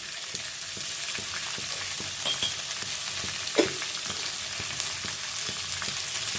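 Capsicum, tomato and potato fry in oil for a fish curry, giving a steady, close sizzle with occasional soft clinks and stirring scrapes.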